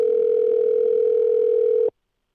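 Steady telephone line tone during a call, a single loud unbroken hum held for nearly two seconds, then cut off abruptly into silence.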